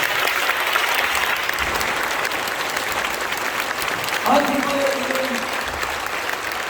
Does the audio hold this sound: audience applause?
yes